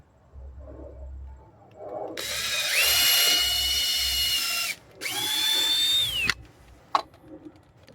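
Power drill driving 3-inch screws into wood for a palm box build, two sustained loud whirring bursts with rising pitch, the first about 2.5 seconds and the second about 1.5 seconds, followed by brief knocks.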